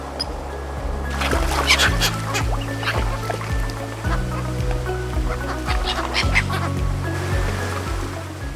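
Ducks in an enclosure quack and honk loudly and continuously, many birds calling at once close by over a steady low hum.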